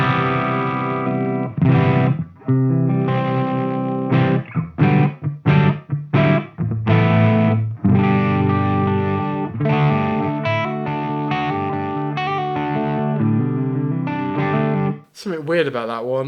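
Electric guitar played through a distortion patch on a Zoom 505 effects processor, loud chopped chords and sustained notes in a stop-start rhythm, with a brief pause near the end.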